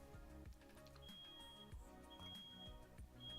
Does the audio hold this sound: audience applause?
no